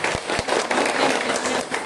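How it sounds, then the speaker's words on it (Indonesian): Audience in a nursing academy lecture session claps together, a dense steady wash of applause filling the short span with no pauses. "Tepuk tangan dulu dong untuk kita semua."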